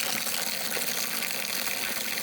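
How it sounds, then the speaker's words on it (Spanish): Fresh water poured into a horse's feed basket outdoors in the countryside, a steady broadband splashing gush running continuously and fairly close throughout. "Así que vamos a limpiársela y a echarle agua nueva."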